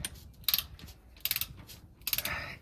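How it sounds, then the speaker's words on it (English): A torque wrench worked as a ratchet on the throttle body of a 2018 Chevrolet Silverado 1500, three short bursts of rapid ratcheting clicks separated by pauses, close and clear. "technically you're not supposed to use a torque wrench as an actual wrench, but here I am"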